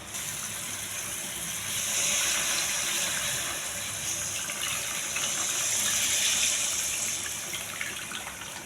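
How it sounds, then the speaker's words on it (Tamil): A steady, continuous pour of tamarind water splashing into a pot of fish curry, rising and falling slightly in strength, with no talking. "அதை புளியை நல்லா கரைச்சி புளி தண்ணி நம்ம சேர்த்துக்கலாம்."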